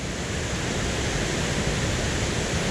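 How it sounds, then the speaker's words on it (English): Rocky Brook Falls in Washington, a waterfall along the Dosewallips River trail, roars as a steady, dense rush of falling water, loud and unbroken throughout. "So here we are, Rocky Brook Falls."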